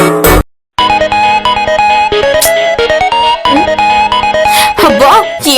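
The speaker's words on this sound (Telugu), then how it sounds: "అబ్బా ఏంటిది, మళ్ళీ ఫోన్ చేస్తుంది." A mobile phone ringtone plays loudly and continuously, a tonal electronic melody with a brief gap near the start, heard during a TV comedy scene.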